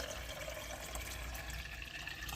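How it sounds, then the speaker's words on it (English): A quart of water poured into the rear reservoir of an espresso machine, a continuous near gurgling trickle that holds steady for a couple of seconds without speech. "Let's see how much of this actually makes it into the back. Oh, good pour."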